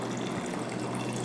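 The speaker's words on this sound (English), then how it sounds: "I will add distilled water in the mixture to make a" Distilled water is poured into a sand and common salt mixture, a soft steady trickling gush that runs continuously and fairly quietly through the whole short moment.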